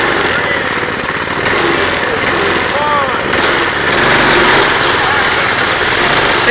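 A Baja Doodle Bug go kart with a 5 horsepower engine drones steadily at close range, its buzzing engine note rising slightly partway through amid heavy wind buffeting.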